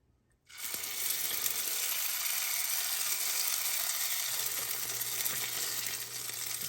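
Hot water cornbread batter drops into hot oil and sets off a loud, steady sizzle that crackles on evenly without pause.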